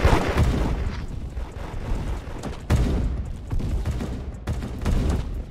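Gunfire in the Roblox game Da Hood, several loud booming shots spaced a second or two apart over a dense rumbling background, close and alone.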